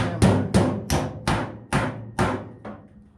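Hammer blows on a warped metal panel of a 1970 Plymouth Duster tubbed drag car: seven sharp, ringing strikes at a steady, roughly half-second rhythm, close and loud, the last one softer.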